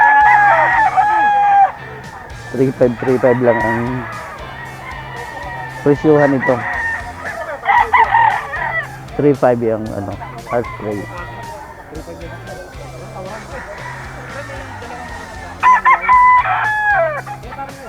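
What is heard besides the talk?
roosters crowing and clucking at a market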